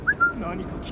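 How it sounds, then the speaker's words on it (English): In Assassin's Creed Shadows, a character gives one short rising whistle near a shoji door to draw a guard over; it sounds close and quick, then fades into a low background murmur. "We're gonna whistle him over to attract him to this shoji door"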